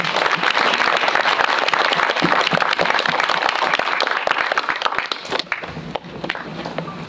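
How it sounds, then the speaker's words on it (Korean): Audience applause at a post-screening film festival Q&A, a dense, steady wash of many hands clapping close by for about five seconds, thinning and tapering off toward the end. "박수 한번 쳐주시면 감사합니다"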